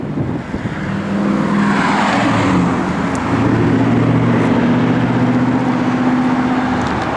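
A 1993 Chevrolet Silverado 1500 pickup truck engine turns over and settles into a loud, steady rumbling idle, with a brief rev along the way.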